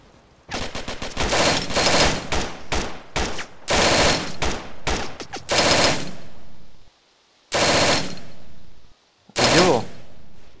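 Long bursts of MG 42 machine gun fire in the video game Iron Front for Arma, loud and close, rattling in rapid strings separated by brief pauses, with two shorter bursts near the end.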